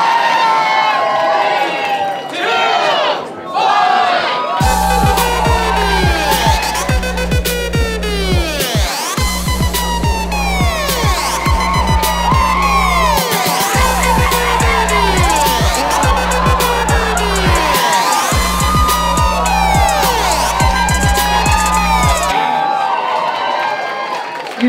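A live audience at the final of a quirky subculture competition roars with sustained cheering, shouting and whistles, loud and continuous for about twenty seconds over a steady pulsing low beat.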